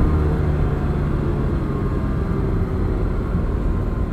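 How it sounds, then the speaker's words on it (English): A 1984 Ferrari 512 BBi's 12-cylinder engine drones steadily from inside the cabin, a loud, constant low rumble and roar with no break over the few seconds, and no one speaking. "nothing like a 12-cylinder Ferrari"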